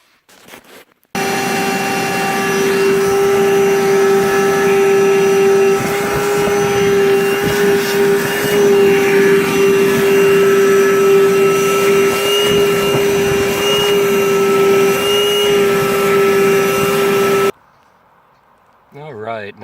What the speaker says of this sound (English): Alright, now that I've got it cleaned out